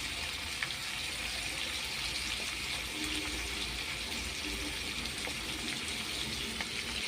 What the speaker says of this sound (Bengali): রসুন ফোড়ন দিয়ে এভাবে রসুন ফোড়ন দিয়ে দিলাম